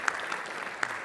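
Audience applause in a conference hall after a talk on WebGL, a steady, fairly faint patter of clapping with a few sharper claps standing out.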